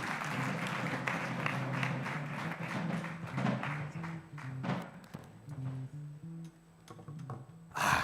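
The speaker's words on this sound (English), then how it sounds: "a big round of applause for those two gentlemen and everybody else who has contributed" Applause from the audience at a diplomatic awards ceremony, steady clapping over background music with some louder taps and thuds, fading in and out.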